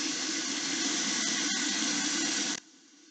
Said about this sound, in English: I'm going to use a paper towel to turn on the faucet and to pump the soap this time